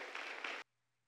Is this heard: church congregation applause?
yes